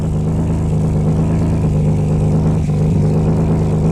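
A Ford V6 truck engine fitted with a motorcycle exhaust muffler runs at high revs, a loud, steady, throaty drone heard up close, with a brief dip in the middle and no talking.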